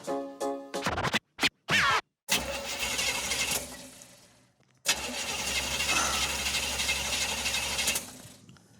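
A car engine cranks in several short, choppy bursts, then gives one longer, sustained crank and never catches. The sound is close and alone, with no one talking.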